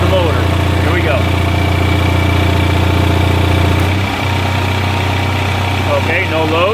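JB motor running with no load during a load test, a loud continuous hum with a steady low drone and one brief shift in pitch partway through, with faint voice-like sounds over it.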